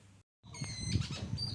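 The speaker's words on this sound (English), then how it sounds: "Can you hear the sounds of the beautiful birds?" Birds chirping and calling at dawn in the hills around a manor, a mix of thin whistled notes and chatter that starts after a brief silence and carries on steadily at moderate volume.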